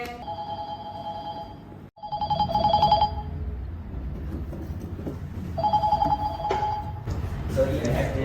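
A telephone rings in repeated electronic bursts with short gaps between them, moderately loud over a low room background, and people talk nearby.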